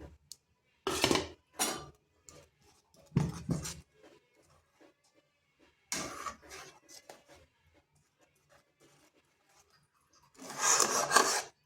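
A spatula scrapes and rasps through grated coconut in a pan while making coconut barfi sondesh, coming in several short, close bursts of stirring separated by quiet gaps.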